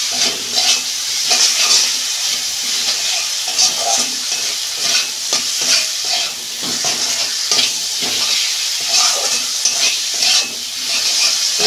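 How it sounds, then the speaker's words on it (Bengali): Potatoes frying in hot oil with spices for a fish curry with potato and eggplant: a steady, loud sizzle and hiss with occasional stirring clatter running throughout, no voices. "এই যে কষানো হয়ে গেছে তেল ছেড়ে গেছে আমি আলুগুলো দিয়ে দিচ্ছি।"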